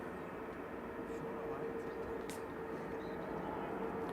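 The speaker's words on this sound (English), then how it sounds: "Etihad departing to Abu Dhabi now." Etihad Boeing 787-9 Dreamliner departing Manchester Airport, a steady distant jet roar holding level throughout, with a faint tonal whine riding on the broad rumble.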